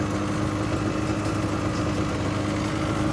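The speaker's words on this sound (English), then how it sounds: "This one's still idling high." A motorcycle engine idles high and steady nearby, a continuous droning rumble with a fast, even pulse and no pauses.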